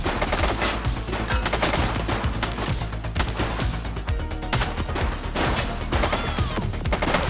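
A suspect fires during a police shootout in the video game The Precinct: dense, rapid bursts of gunshots crackle continuously and loudly from start to end, with no talking.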